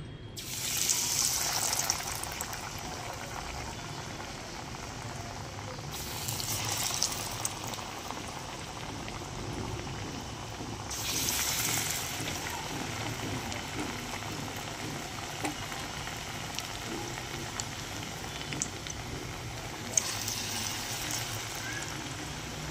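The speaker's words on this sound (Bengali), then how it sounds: "তেলটা গরম হয়ে গেছে। এবার আমি এক এক করে চিকেনগুলো ছেড়ে দেব।" Chicken pieces go one by one into hot oil, which bubbles steadily with a boiling-like roar that swells in several louder surges as each piece drops in.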